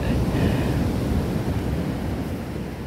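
Sea waves on a pebbly Black Sea beach at Lazarevskoye wash in continuously as a loud, rough rushing surf, with gusty wind buffeting the microphone throughout.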